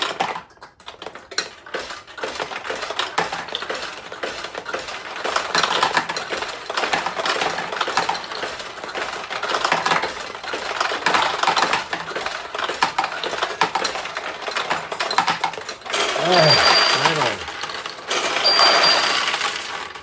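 Vintage Kyoraku pachinko machine launching balls, a steady dense clatter and rattle of small metal balls running throughout, close and fairly loud, with bright electronic chime tones near the end.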